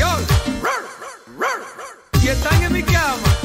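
A dog barks in a series of sharp, rising-and-falling yelps at close range, set against a merengue track, with a brief break before the barking resumes in a denser burst.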